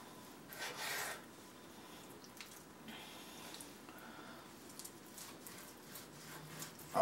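A knife draws through beef, sliced along the grain into long strips on a board: a soft, continuous rasping and rubbing, faint and close, with no voices.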